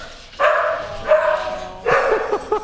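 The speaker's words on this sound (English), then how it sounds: "The little one that started all of this is my dog Scout" A small dog barks and yips in three separate bursts, close and fairly loud, with short pauses between them and no talking over them.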